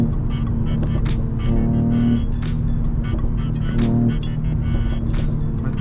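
A 2021 Mercedes E53 convertible's engine roars steadily and loudly throughout, with a deep sustained exhaust drone and a couple of surges in revs.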